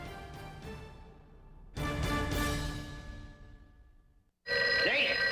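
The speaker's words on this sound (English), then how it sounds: "There's the phone" An old-style telephone bell rings loudly in repeated bursts with short gaps between them, close and prominent, followed by a sharp electronic tone.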